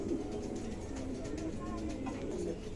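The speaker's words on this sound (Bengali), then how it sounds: "2টো কবুতরই মাশাআল্লাহ খুবই হিট আছে, 2টোই নতুন কবুতর মাশাআল্লাহ দেখতে চমৎকার।" Pigeons coo in a low, steady murmur that runs through the whole stretch, with a dense backdrop of bird sounds and faint background voices, close and moderately loud.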